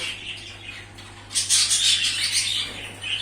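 Small birds, young yellow males, chirp and tweet over a steady low electrical hum, getting busier and louder halfway through.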